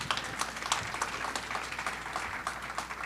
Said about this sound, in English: You can applaud another one.